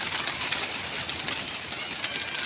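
Pigeons coo softly on their roost at a pigeon club loft, repeated low cooing under a steady hiss of background noise, with no talking.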